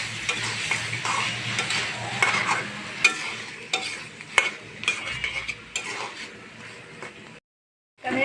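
Cut taro is stirred into spice paste frying in oil for a hilsa curry, with loud sizzling and repeated scraping and clinking of a utensil against the pan until it cuts off near the end.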